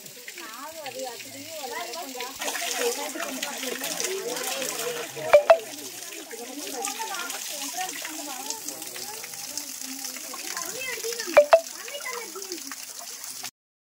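Water rushes at the Chintamani waterfall where devotees bathe: a steady broadband wash that runs throughout beneath near, continuous talking, with two short louder bursts along the way.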